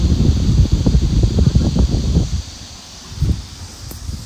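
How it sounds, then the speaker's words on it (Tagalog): Strong wind gusts rush and buffet the microphone with a loud, rough roar that eases off and then briefly swells again. "lakas ng hangin, no?"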